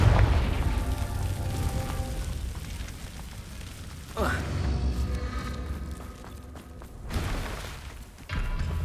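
Confringo fire spell blasts in Hogwarts Legacy, several deep booming explosions at irregular intervals over a rumbling game soundscape, loud and close, with no talk.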